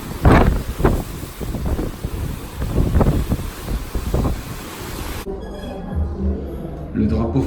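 Sea waves splash against the Costa Fortuna cruise ship on a windy crossing, with loud, steady wind buffeting the microphone while a person talks throughout.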